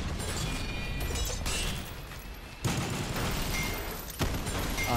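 Repeated shotgun blasts in the action shooter SYNTHETIK 2, loud and dense with several sharp booming onsets over continuous combat noise.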